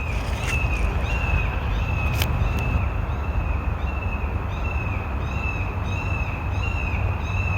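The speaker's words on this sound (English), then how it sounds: "Bird activity big time. Hear them?" Crows give alarm calls, cawing repeatedly in short bursts in a forest over a steady background rumble, with a persistent high whine running underneath throughout.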